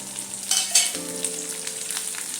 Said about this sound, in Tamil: கருவேப்பிலையோடு ஒன்றாவே வெந்துருங்க நல்லா